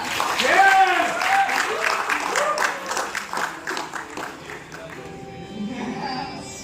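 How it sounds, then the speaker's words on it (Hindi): Applause from an audience rises under a speaking voice, the clapping fading as the talk carries on. "आप सबकी तालियों के बीच स्वागत करते हैं लक्ष्यदीप जानी का"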